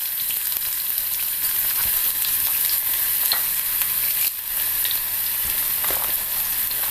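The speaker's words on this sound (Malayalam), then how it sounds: "കടുക് പൊട്ടുന്നതിലേക്ക് ഉള്ളി ഇട്ട് കൊടുക്കാം." Onion drops into mustard seeds spluttering in hot coconut oil for a koorka theeyal, and a dense, loud, continuous frying hiss follows, speckled with small pops and stir scrapes.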